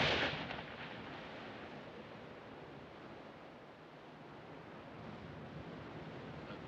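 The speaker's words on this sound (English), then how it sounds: "That and them damn waves flopping in all day long." Ocean waves breaking on a shore, a loud wash at the start settling into a continuous roaring surf with no voices.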